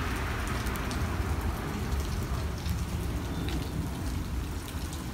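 Steady rain falling outdoors at a retro and vintage camper gathering, a dense continuous patter of drops hitting surfaces, even and close with no voices.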